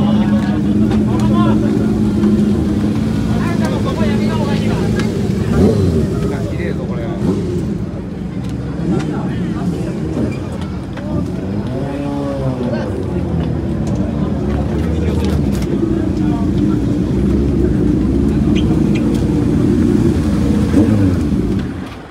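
Continuous car engine drone with rising and falling revs from classic cars at a late-night meeting at Kamigo service area, Japan, loud and close, while people talk over it throughout.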